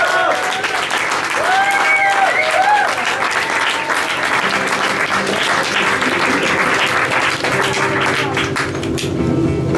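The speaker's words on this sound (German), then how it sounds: "Ein großer Applaus" Audience applause at a concert in the rhiz venue in Vienna: dense, loud clapping from a close crowd throughout, with scattered cheers and whistles over it and voices near the end.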